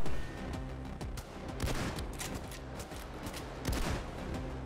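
Sustained gunfire in the Payday 2 bank heist, a dense continuous barrage of shots with several louder bursts near the start and end, no voices over it.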